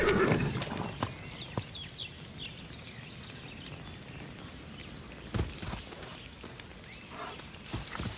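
Horse in the video game Far Cry 6 whinnies loudly at the start, followed by scattered hoof clops and thuds over a quiet outdoor ambience.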